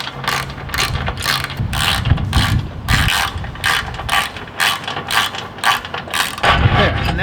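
A hand ratchet with a 13 socket tightens roof rack bolts on a Porsche Cayenne Turbo S fitted with a Front Runner rack, giving loud, close, continuous rapid clicking in quick repeated strokes with no talk.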